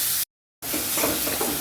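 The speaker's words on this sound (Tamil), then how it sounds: "பொடியாக நறுக்கி வச்ச வெங்காயத்தை வந்து போட்டு நல்லா ப்ரௌன் ஆகிற வரைக்கும் ஃப்ரை பண்ணிக்கலாம்" Onions sizzle steadily in a hot pan, a dense crackling hiss that cuts out for a split second before resuming at full strength.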